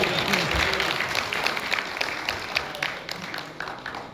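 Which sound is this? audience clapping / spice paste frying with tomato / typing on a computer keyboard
audience clapping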